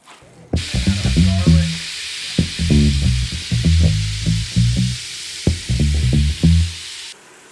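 Cumin, salt and pepper rubbed meat browning in a hot pan for a home-cooked dish, giving a loud, steady sizzle and hiss that starts abruptly and carries on with intermittent lower-pitched sounds mixed in.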